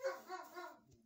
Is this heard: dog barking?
yes